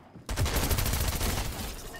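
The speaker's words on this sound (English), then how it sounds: "It's all about the machine pistol." Machine pistol in Fortnite firing a sudden rapid burst, tightly spaced loud cracks rattling out for nearly two seconds after a brief quiet start and fading slightly at the end.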